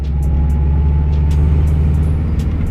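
A manual-transmission car's engine drones steadily and fairly loud as the driver shifts through the gears, with a continuous low hum and no pauses in the sound.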